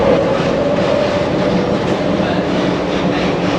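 A Kuala Lumpur monorail train running, heard from on board as a loud, steady rumble and hum with a constant rolling drone throughout.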